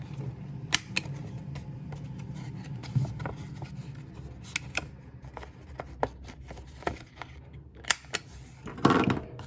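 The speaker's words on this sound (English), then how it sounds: "You need to fold that in to be able to get it into your corner rounder" A handheld corner rounder punch snips paper envelope corners in a junk-journal craft session, giving sharp, separate clicks and crunches at irregular intervals over quiet room noise, with a fuller crunch near the end.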